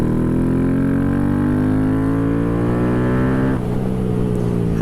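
A Honda Grom motorcycle with a high compression piston, cam and tune revs hard while riding, its loud engine tone climbing steadily for several seconds before dropping sharply at a shift, heard close.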